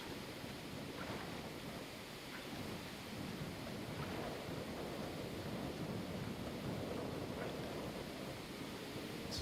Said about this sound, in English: Let the rain fill it all up.